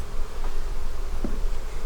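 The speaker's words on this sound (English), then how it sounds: "is a full hive of bees" Dense, steady buzzing of a full hive of honey bees up close, a continuous hum with no pauses.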